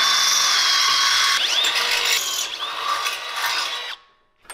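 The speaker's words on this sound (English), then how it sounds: "we have to drill out these holes to a 5/16" A power drill whines steadily as it bites through metal, drilling out holes to 5/16 inch, its pitch wavering under load for a few seconds before it cuts off abruptly.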